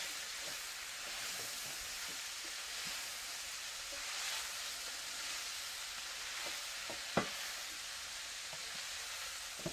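Cabbage fries in olive oil in a pan, a quiet steady sizzle with occasional faint pops and one sharper tap, no voices.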